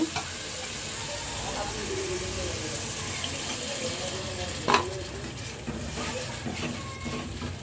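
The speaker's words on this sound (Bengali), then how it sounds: "এখন ঝোলের পানি দিয়ে দিব।" Water is poured into a pot of curry with potatoes and bean seeds, producing a steady rushing, sizzling wash near at hand, with a single louder clatter midway and some speech underneath.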